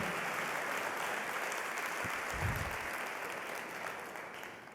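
A church congregation claps during a sermon, a dense, steady wash of applause that fills the space and slowly fades toward the end.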